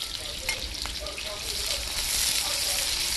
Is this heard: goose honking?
no